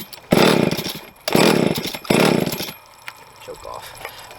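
A Jonsereds 520SP chainsaw, choke on after a carburetor rebuild, fires up in three loud revving bursts, each running about a second with brief drops between them, before settling to a low idle.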